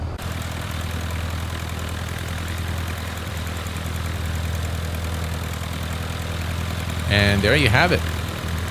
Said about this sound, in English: let's switch to the outside and listen to the engine sounds real quick